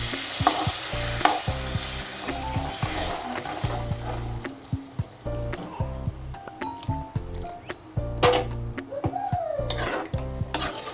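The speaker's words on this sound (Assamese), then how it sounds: "এতিয়া মই ইয়াতে গৰম পানী দি দিম।" Hot water poured into a pan of fried potato and pumpkin while cooking a pumpkin fish curry, giving bursts of sizzling and wet stirring, close by and under steady background music.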